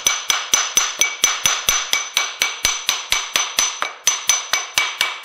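Hammer striking a part off a failed automotive A/C scroll compressor, about twenty sharp metallic taps in a quick, even rhythm with short ringing decay, close and loud with no talking.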